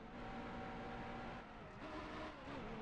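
A stock car's engine drones steadily in NASCAR Heat Evolution as a lap gets underway, a faint continuous hum with a slight dip in the middle, heard alone.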